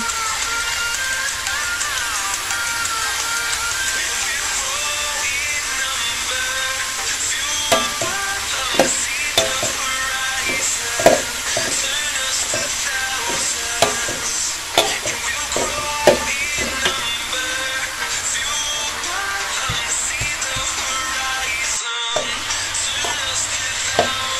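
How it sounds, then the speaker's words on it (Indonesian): Spices and sweet leaf vegetables stir-fried in a pan, a steady loud sizzle running throughout, with scattered scraping clicks of the spatula stirring, close and without talk. "Sambil kita tumis semuanya hingga bumbu dan sayur manisannya tercampur merata"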